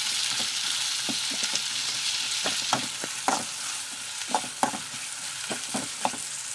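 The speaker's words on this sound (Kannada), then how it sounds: "ಈರುಳ್ಳಿ ಹಾಕ್ಕೊಂಡಿದ ನಂತರ ಸ್ವಲ್ಪ ಫ್ರೈ ಮಾಡ್ಕೊಳ್ಳೋಣ" Chopped onions fry in hot oil in a pan for chitranna, giving a constant sizzle with irregular scraping knocks as a spoon stirs them, and no one speaks.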